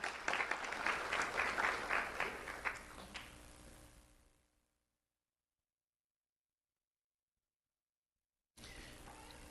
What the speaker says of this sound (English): Let's have a round of applause for Eduardo Cruz